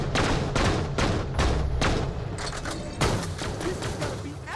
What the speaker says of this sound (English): He's still shooting.